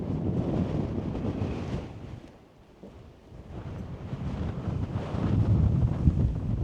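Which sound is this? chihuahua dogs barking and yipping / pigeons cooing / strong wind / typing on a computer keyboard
strong wind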